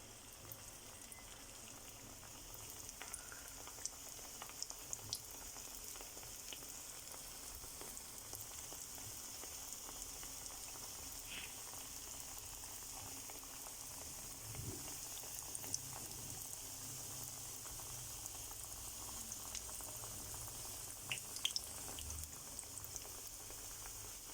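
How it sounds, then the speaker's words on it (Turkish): Shaped pişi dough fries in a pan of hot oil, a faint, even bubbling hiss throughout with occasional small pops and no voices. "Böyle şekil verdiğim hamurlarımı yağın içine bırakıyorum"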